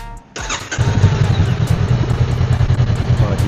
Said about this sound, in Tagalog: So this is now my Honda Rebel on stock pipe.